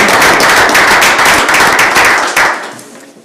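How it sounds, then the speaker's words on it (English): Applause from a city commission meeting audience honoring employees, dense loud clapping from a room of people for about two seconds before tapering off into quiet. "We could just give those employees a round of applause real quick here."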